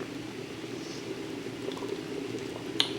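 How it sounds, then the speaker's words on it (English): Thick fig jam bubbling in a pot, a soft continuous simmer with occasional small pops, close and fairly quiet. "it is boiling"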